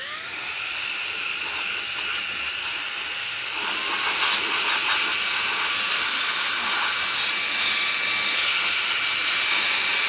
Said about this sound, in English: I got my new Fantech blower.